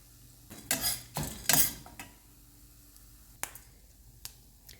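Spices being roasted with red chilli in a pan, heard as a few sharp scraping stirs and clinks of a spoon against metal early on, then quieter occasional taps over a faint low sizzle, close by with no talking.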